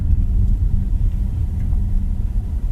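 Lynk & Co 01 PHEV turbocharged car driving, a steady low engine and road rumble heard continuously from inside the cabin, fairly loud with no voices.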